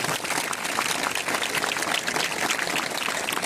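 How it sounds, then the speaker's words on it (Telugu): An audience at an institute gathering breaks into steady applause, with dense, continuous clapping that holds at an even level throughout, close and fairly loud, with no voices. "ఒకసారి మనం క్లాప్స్ తోటి వాళ్ళని అప్లాజ్ చేద్దాము"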